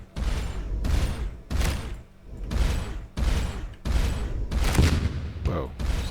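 Plasma cannon fire in the space game Starcom: Unknown Space, a run of heavy, loud booming bursts in steady rhythm, roughly seven shots with short gaps between them.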